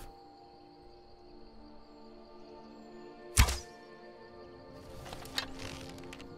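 An arrow fired in Skyrim on Nintendo Switch strikes its target with one sharp, close thunk midway through a low steady hum, followed by faint rustling clatter.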